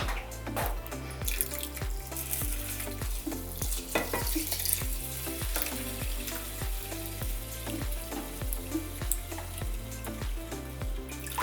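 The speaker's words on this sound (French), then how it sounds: "Ensuite, je vais rajouter de l'eau." Water poured into a pot while preparing a week of meals, a steady running splash over a rhythmic background clatter, close and continuous with no talk.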